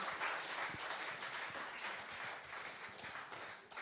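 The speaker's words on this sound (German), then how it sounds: "Und nochmal einen großen Applaus für Hanna Körner." An audience at a live music competition final applauds steadily, a dense wash of clapping hands that holds at an even level throughout, with no one speaking.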